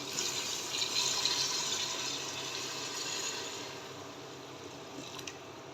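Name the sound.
hot water poured into pot of mutton trotters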